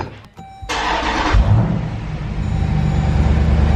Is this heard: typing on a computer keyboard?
no